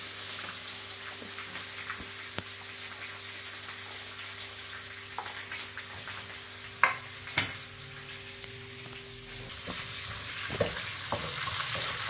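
Country chicken curry base sautéing in a pan, a continuous close sizzle with scattered sharp clicks and scrapes of stirring, loudest around the middle and never interrupted by talk.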